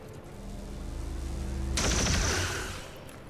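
Gunfire in XCOM 2 erupts partway through as a loud, dense burst of shots, rising out of a quieter game backdrop and fading off toward the end.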